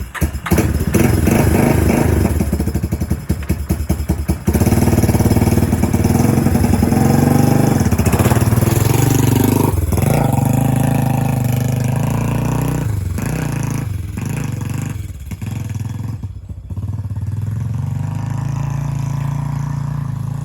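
A 1999 Yamaha Warrior 350 ATV engine runs loud and steady while being ridden, its revs rising and falling continuously throughout with no talking.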